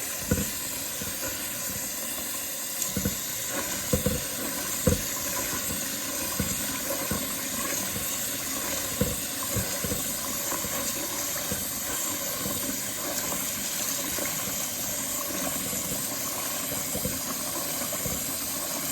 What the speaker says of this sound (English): we want to get this fully covered by about 2 to 3 inches of water